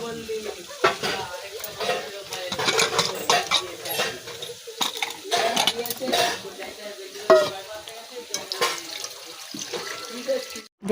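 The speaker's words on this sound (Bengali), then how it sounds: "এখানে মশলা কষানো হচ্ছে, এটা হচ্ছে আলুর দম হবে" Spices being stir-fried in a wok for potato curry (aloo dum) with a few green peas, with spatula scraping and sizzling clattering close by in uneven bursts throughout, and some speech faintly in the background.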